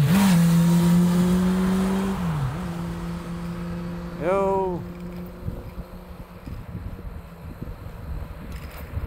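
Motocross motorcycle engines at an outdoor track rise and fall in pitch, one strong rev surging midway, then fading into a more distant, rougher drone with wind and faint outdoor noise.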